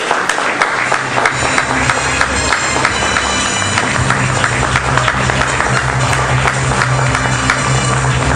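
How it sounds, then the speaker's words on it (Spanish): Audience applause at a ribbon award ceremony in Comas for the La Fogata chicken and grill restaurant, a dense steady wash of clapping running loud and continuous throughout, with music or a low hum underneath. "Fuerte las palmas."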